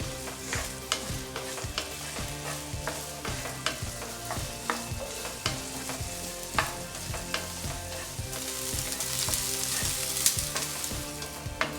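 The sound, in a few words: okra sautéing in a pan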